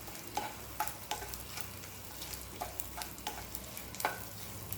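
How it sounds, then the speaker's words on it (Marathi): Edible gum (dink) frying gently in a pan over low gas, with soft steady sizzle and occasional sharp crackles and pops as the pieces puff up, moderately close and alone. "एक ते दोन चमचे हा डिंक यामध्ये तळून घ्यायचा आहे"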